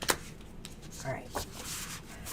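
Thick tarot cards riffle and slap together in quick, soft shuffles close by, with faint rustling between them.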